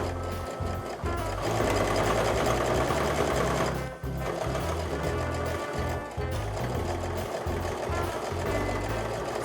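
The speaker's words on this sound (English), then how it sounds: "So I'm going to sew all the way to the end, and I'm going to reinforce that a little bit and break my threads." A sewing machine stitches bias tape onto a canvas apron, running in a steady, close mechanical hum with quick needle clatter, pausing briefly twice before resuming.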